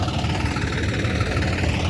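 A tractor engine idles in a standing mung bean crop field, a loud, steady, continuous low rumble with no change in pace throughout.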